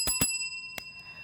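A bright bell signalling a two-minute warning on a live show, two quick rings followed by a third, clear and ringing on with sustained overtones.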